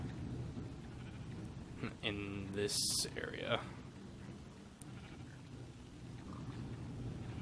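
A blocky sheep in the Minecraft mod Better Than Wolves gives a short, clear bleat midway, rising over a faint background hum while someone talks quietly nearby.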